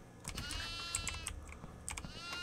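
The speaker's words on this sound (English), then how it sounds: "Oh, there's a goat!" A goat in a video game gives a few short, bleating cries over a quiet background, mixed with soft clicking like keyboard typing.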